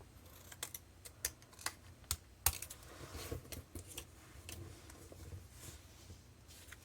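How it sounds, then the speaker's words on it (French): Scissors cut through paper card during a card-making craft, a series of crisp irregular snips and clicks, close and quiet, with no talk. "je vais venir couper au ciseau une partie qui me convient"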